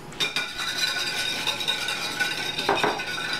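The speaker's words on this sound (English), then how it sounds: "I'm going to get a wire whisk" A wire whisk beats ingredients in a bowl for fish to be cooked in a toaster oven, giving close, continuous rapid clinking and scraping, with a sharper knock near the end.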